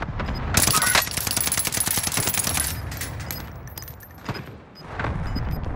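Rapid automatic gunfire from a Call of Duty: Modern Warfare match rattles in a dense burst, then breaks into scattered shots and clatter that trail off and pick up again.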